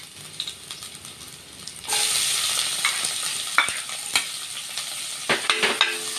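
Garlic and onion hit hot canola oil in a stir-fry pan. After a quieter start, a loud, steady sizzle bursts in, with scraping stir strokes and crackling pops on top.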